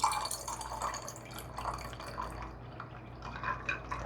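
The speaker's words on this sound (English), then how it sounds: "I want to top it with a little sparkling water here." Raspberry cran LaCroix sparkling water poured into a glass over lemon and strawberry, a close, continuous splashing trickle with fizzy crackles and bright drips over a low background hum.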